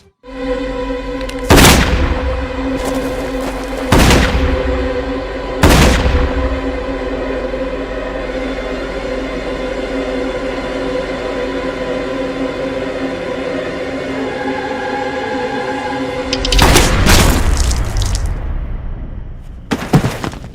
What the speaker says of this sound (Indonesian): Ternyata suara tembakan itu berasal dari pistol Beck yang diarahkan ke Ezrin.